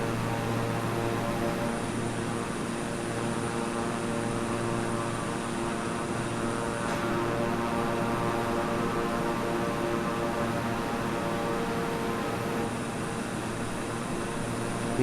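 A Beechcraft propeller aircraft engine in flight in the Microsoft Flight Simulator video game drones steadily and evenly throughout, a constant loud hum with a faint tonal whine and no talk.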